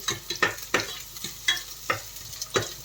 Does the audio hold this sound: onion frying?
yes